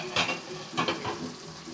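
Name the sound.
sauce simmering in a pot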